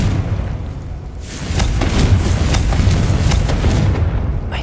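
Confringo spell blast in Hogwarts Legacy: a dense booming rumble that swells after a brief lull, with repeated crackling bursts layered over a loud, continuous low roar.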